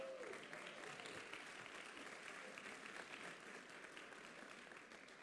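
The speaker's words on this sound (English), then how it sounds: "Please give them a warm round of applause." A convocation audience welcomes the Golden Class with a steady wash of applause, dense and continuous from start to finish, easing slightly toward the end.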